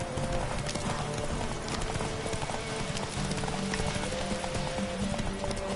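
Galloping horse hooves in a PS4 video game give a steady, loud clip-clop rhythm that runs through the whole stretch over constant game background.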